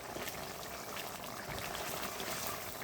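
Fish and potato curry simmers in a pot, a soft, steady bubbling with a faint watery gurgle, quiet and continuous.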